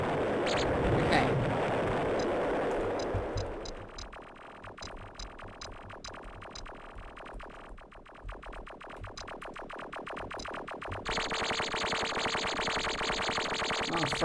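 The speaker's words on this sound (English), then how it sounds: "no wonder they kept launching those bloody missiles at me" Missiles fired at a ship in the space game Escape Velocity: Override, heard as a loud, distorted burst of blasting that thins into a run of rapid crackling impacts, then swells into a steady roaring wash.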